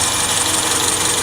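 A Honda Accord CB7 engine idles steadily with a continuous mid-pitched hum and a constant high squeal from the serpentine belts, close and loud with no pauses.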